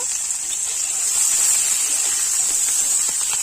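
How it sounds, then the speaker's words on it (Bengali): Five-spice seeds, onion and chopped chilli fry in hot oil as a tempering, giving a continuous bright sizzling hiss that holds steady and close, with faint popping. "তেলে ফোড়ন দেব পাঁচ ফোড়ন পেঁয়াজ কিছু লঙ্কা কুচি দিয়ে দেব"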